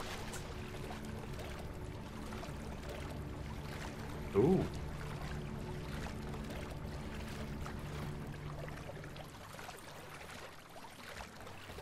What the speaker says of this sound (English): Like some life stream kind of water.